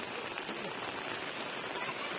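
Steady rain falls on a hill-station outing, a dense, even hiss of drops on surfaces filling the whole moment, close and continuous, with no clear talking.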